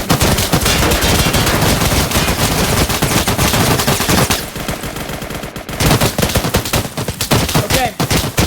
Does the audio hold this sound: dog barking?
no